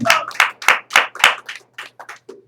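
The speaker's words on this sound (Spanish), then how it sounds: "Un aplauso al Señor, bendito es el Señor, una fuerza de palmas" A church congregation clapping in praise, a rhythmic series of about a dozen sharp claps, strong at first then thinning out into scattered claps.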